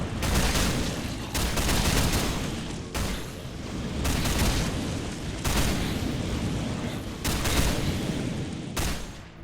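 An automated turret fires steadily at zombies in the Minecraft Techguns mod, giving dense, loud bursts of gunfire that continue almost nonstop with short breaks between volleys.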